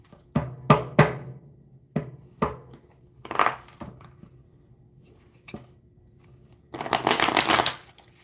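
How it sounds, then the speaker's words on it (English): Tarot cards are handled and shuffled close by, with several sharp slaps and taps spaced out, then a dense burst of riffling near the end. No voices. "Grab a future card here."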